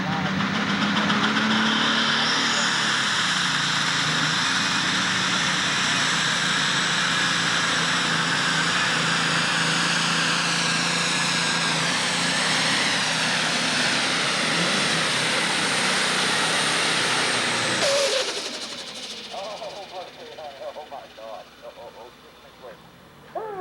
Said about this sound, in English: Leroy Mason, the man in the down and dirty tractor coming on.